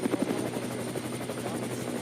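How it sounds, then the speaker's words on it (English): A helicopter flies over a race circuit during a Nürburgring endurance race, its steady rotor chop droning throughout under faint commentary. "Helicopter picking up"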